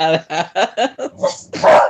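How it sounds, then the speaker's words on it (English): A pet dog gives a series of about six sharp barks in a steady rhythm, close and loud, with a voice speaking briefly over the final bark. "that's my dog"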